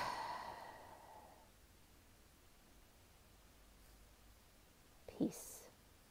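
Breathing in and blowing out during a calming breathing exercise: a soft, airy exhale rush at the start fades out, followed by quiet and then one short breath near the end, faint and close.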